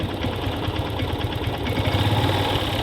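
Motorcycle engine running steadily and loudly at close range during a beginner gear-shifting lesson, a continuous rumbling drone with fine rapid pulsing and no speech over it.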